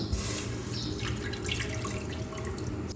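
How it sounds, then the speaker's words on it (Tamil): Water pouring from a tap into a pressure cooker while cooking white pumpkin kootu, a steady close splashing stream that runs alone for about three seconds. "இப்போ ஒரு குக்கரில் 1 கிளாஸ் அளவு தண்ணி சேர்த்துக்கலாம்."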